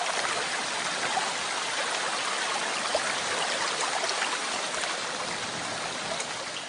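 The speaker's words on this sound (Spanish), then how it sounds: "Pero el agua sigue subiendo." Rising floodwater rushes around an ant nest in a continuous, even wash of flowing water, moderately loud and steady, with no voices.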